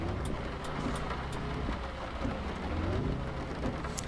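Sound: rain in video game Grand Truck Simulator 2

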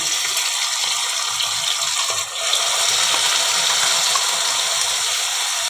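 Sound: water from rinsing mixer jar poured into pan

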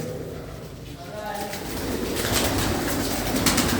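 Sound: pigeons cooing

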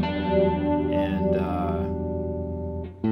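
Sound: guitar chorus effect on Yamaha THR-10II amplifier

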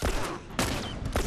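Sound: gunfire in video game The Last of Us Remastered

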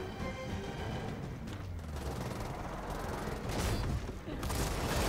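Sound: gunfire in the video game Gears of War 4

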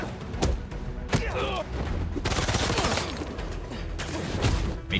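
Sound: gunfire in the video game Spider-Man 2

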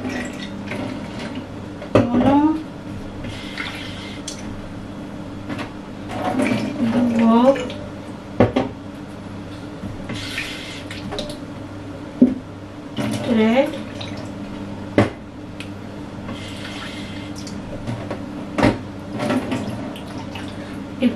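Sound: tap water running

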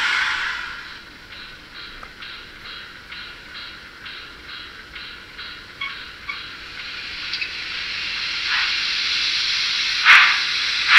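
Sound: Gützold class 65 TT model steam locomotive sound hissing

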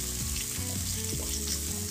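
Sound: onions and green chilies frying in a pan

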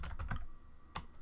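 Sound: typing code on a computer keyboard

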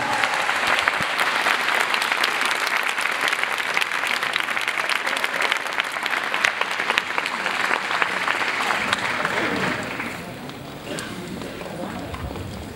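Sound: audience applause at graduation ceremony

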